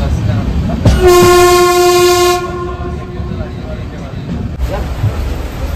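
The Diva-Ratnagiri passenger train at Panvel station sounds a loud, close horn blast lasting about a second and a half, followed by the steady rumble of the train, with people talking in the background.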